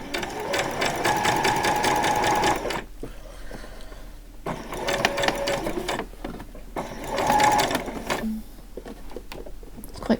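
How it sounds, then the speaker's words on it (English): A sewing machine back stitches a skirt seam. The motor whirs in close, steady bursts that stop and restart a few times, with short quiet gaps between the runs. "I'm just going to do a few back stitches there"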